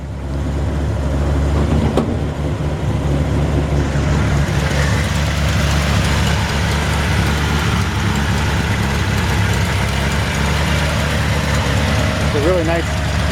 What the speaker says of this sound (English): A really nice, healthy sounding engine. Idle sounds like it might just be a touch high.